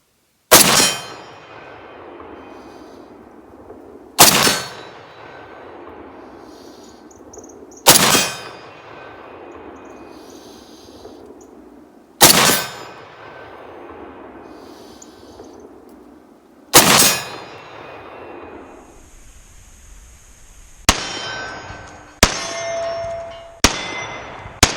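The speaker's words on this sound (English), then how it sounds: "see how fast we can transition between the steel targets at ranges going from 20 to 50 yards" An M1A rifle fires single shots at steel targets 20 to 50 yards away, five loud spaced cracks each followed by a ringing decay, then a faster burst of shots with sharp metallic pings of rounds striking steel.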